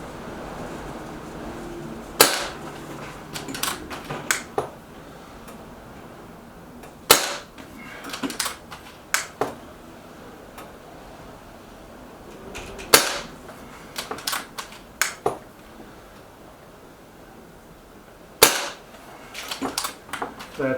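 A Reximex Ixia compact air rifle fires pellets outdoors in wind, each shot a sharp crack followed by smaller clicks and clatter of cocking and loading, repeated about four times over soft wind noise.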